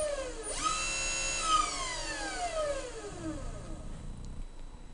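Electric motor of a Torsk 7 electric motorbike spinning up on the thumb throttle, a clear rising then falling whine with strong harmonic sweeps, close and alone.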